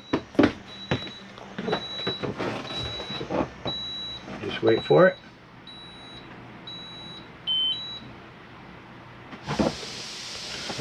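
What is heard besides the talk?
Jayco RV stabilizing jacks retracting, then beeping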